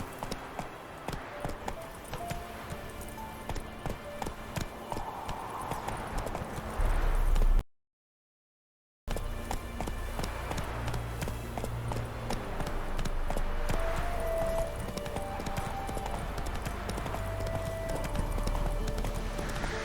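Roach the horse gallops in The Witcher 3, a steady rhythmic clip-clop of hooves running over ground, continuous and fairly loud apart from a brief silent gap partway through.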